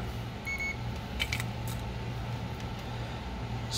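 A multimeter continuity beep, probing solder points on a Game Boy Color board during a laminated Q5 backlight install: a short faint tone near the start over steady low hum, with no talk.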